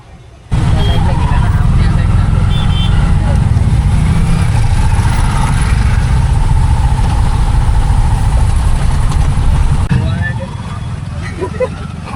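A CNG auto-rickshaw engine idles steadily in a traffic jam at Gaymukh, with a constant close low rumble and vibration that drops slightly toward the end.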